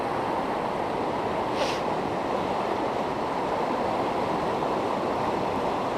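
Hard-rushing river water pours in a constant broadband roar, close and steady with no pauses, heard alone.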